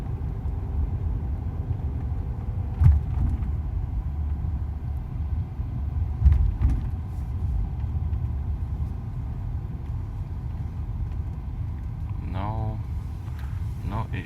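A Mercedes SL500 with a repaired electronic throttle drives along, giving a steady low engine and road rumble heard from inside the cabin, smooth and even throughout, with a couple of faint thumps.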